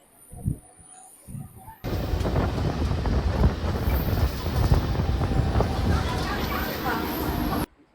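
A suburban train pulls out of Dasnagar station on the line from Howrah, a loud rumbling roar with rattling and wind buffeting that starts abruptly and continues steadily. Brief talk is heard just before it begins.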